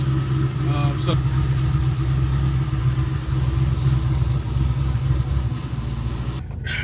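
A cammed, supercharged Chevy SS V8 idles after a cold start with a steady, deep, lumpy rumble that runs unbroken throughout, loud and close.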